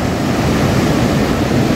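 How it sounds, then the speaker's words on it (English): Ocean surf at Maracas beach makes a constant, loud broadband rush with wind buffeting the microphone, no distinct breaks or voices. "some waves"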